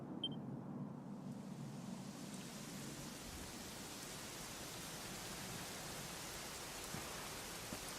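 Rain falls steadily in the Dragon Quest XI video game, a soft, even hiss of drops that settles in after a brief quieter opening and continues low and unbroken.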